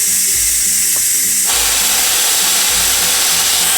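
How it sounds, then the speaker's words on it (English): A loud, continuous steam hiss rushes from a pot of steamed spinach as the pressure is released, a dense roaring spray that swells in intensity partway through and holds steady, close and alone. "after that 1 minute, we're just going to release the steam"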